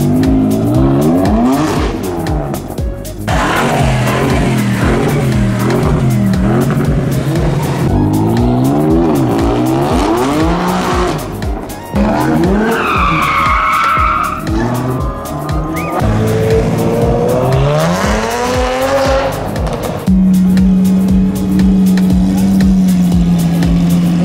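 Cars cornering at the Monaco hairpin, engines revving and dropping as each car brakes and accelerates through the bend, with loud tire squeals and skids in repeated passes close by.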